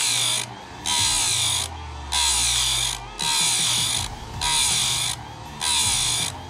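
A powered chainsaw-chain sharpener grinds the cutter teeth of a ripping chain for an Alaskan sawmill in steady repeated bursts, about one per second, each a loud high whine with brief pauses as the chain is advanced tooth by tooth.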